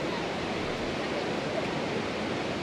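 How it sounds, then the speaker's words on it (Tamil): Barron Falls in the Kuranda rainforest national park, Queensland, pours in a dense, steady roar of rushing water, constant and loud with no pauses or voices. "பெரன் நீர்வீழ்ச்சி என்ற இந்த நீர்வீழ்ச்சி குயின்ஸ்லாண்டில் இருக்கிற இந்த கொரண்டா ரெயின் ஃபாரஸ்ட்டோ நேஷனல் பார்க்கில் இருக்கிற ஒரு மிக பிரம்மாண்டமான ஒரு நீர்வீழ்ச்சி"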